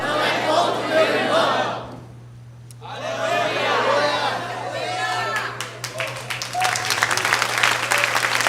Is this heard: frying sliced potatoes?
no